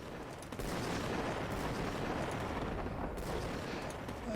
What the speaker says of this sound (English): that wasn't hitting the player, that was hitting the bridge, that explosion